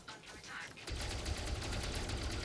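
Rapid automatic turret fire in a video game, a dense stream of shots starting about a second in and continuing loud and steady to the end after a quieter opening.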